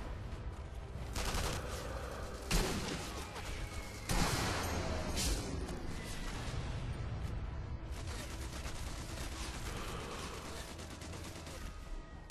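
Sustained gunfire from Sniper Elite V2, with dense volleys of shots and a couple of louder bangs over a constant rumbling battle backdrop, fairly distant and continuous.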